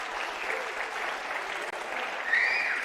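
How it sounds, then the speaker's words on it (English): Steady, fairly soft applause from an audience at a squash tournament prize ceremony, continuous clapping throughout with a brief dip and a slight swell near the end, and a faint whistle or cheer. "Please an applause for them."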